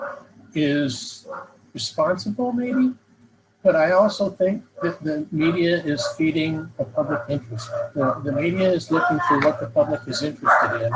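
Several dogs barking excitedly somewhere behind a person giving an interview; the barks are scattered and sit under near-continuous talk.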